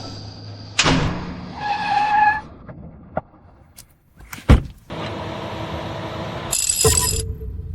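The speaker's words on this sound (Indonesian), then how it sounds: "Cepat jalankan mobil." A car door thumps and the engine catches, then a loud surge of driving noise follows with a brief tire screech, all close and busy over about eight seconds.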